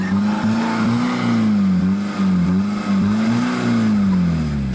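Fiat Multipla five-cylinder engine starting up and revving, a loud close engine note that rises and dips in repeated swells, running steadily without speech.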